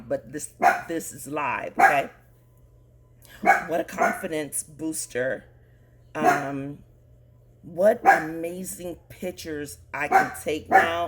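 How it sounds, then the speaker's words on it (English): A dog barks now and then in the background, faint under someone talking steadily close to the microphone. "sorry for the dog in the background"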